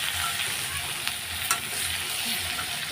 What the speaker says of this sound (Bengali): তা কফিগুলো দিয়ে দেবো গরম সব একবারে দিয়ে ভেজে নেব একটু লাল লাল করে ভেজে নেব